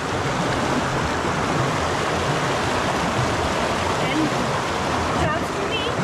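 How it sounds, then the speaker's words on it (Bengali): A clear mountain stream rushing over rocks among the hills near Little Rangit in North Bengal makes a loud, steady, close roar of water that stays constant from start to finish. "আপনাদেরকে এই জলস্রোতটা দেখানোর জন্য আরও এলাম, খালি দেখুন"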